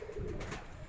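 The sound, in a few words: pigeons cooing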